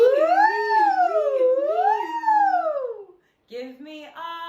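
A human voice imitates a siren, wailing up and down in two long rising-and-falling sweeps, then a brief pause and a shorter wobbling tone, close and loud.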